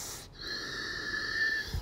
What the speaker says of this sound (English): Keep breathing with it.